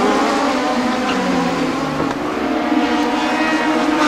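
Toyota Atlantic open-wheel race cars on the 1990 Toronto street circuit roar past continuously, a loud, sustained engine drone with shifting pitch as several cars go by close together.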